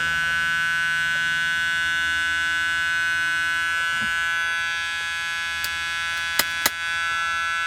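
A continuous electronic warning buzzer in a 1977 Lincoln Town Coupe drones steadily, joined near the end by a few sharp clicks, with no one speaking.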